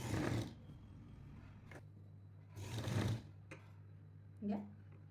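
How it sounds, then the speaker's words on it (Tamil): Sewing machine stitching the neckline of a lined blouse jacket in a tailoring setting, two short whirring bursts with quiet gaps and a faint voice underneath. "இதெல்லாம் அப்படியே நம்ம அந்த ஷேப்பில் தைச்சி விட்டுறோம்"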